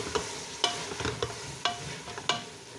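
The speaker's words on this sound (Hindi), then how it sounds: "अब हम इसमें बंद गोभी शामिल करेंगे जो कि मैंने 20 ग्राम ली है" Shredded cabbage gets stirred into frying masala in a pan, with a soft sizzle under sharp spoon scrapes and clinks that land every half second or so, close and moderately quiet.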